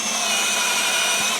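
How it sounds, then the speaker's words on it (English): A low-torque drill bores with a 20 mm Forstner bit during a workbench build, a steady, close whirring grind that holds evenly throughout with no talking. "I have it chucked up into a very low torque drill"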